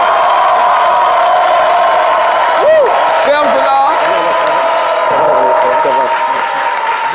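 A studio audience on a Côte d'Ivoire TV set cheers and applauds to welcome Congolese rumba icon Ferre Gola, a steady wash of crowd noise and cheers under a host's continuous speech.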